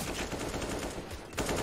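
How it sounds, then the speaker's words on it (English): Gunfire in a professional Counter-Strike match, loud dense shots from the game spread across a short burst with no clear single crack standing out. "Cheeky little headshot from Mo"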